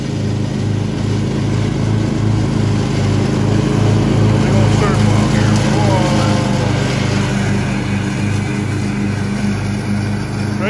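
A lawn mower engine drones steadily throughout while cutting grass, holding a constant loud hum with people talking over it.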